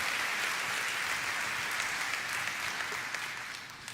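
A church congregation applauds during a Portuguese-language sermon, a dense and steady wash of clapping that holds evenly and then fades slightly toward the end, with no talk over it.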